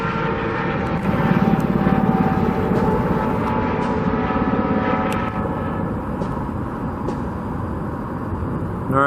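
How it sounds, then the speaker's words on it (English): Tour helicopters returning from the Grand Canyon pass over the Las Vegas Strip near the Allegiant Stadium construction site. A steady, loud rotor and engine drone fills the whole stretch over dense city background noise. "These are the helicopters that come back from the Grand Canyon."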